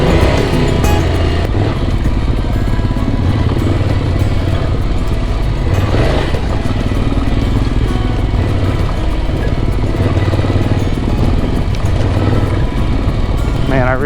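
A motorcycle rides off-road in Moab, its engine a steady, close drone with rumbling low tones and some wind noise the whole time, while someone talks over it.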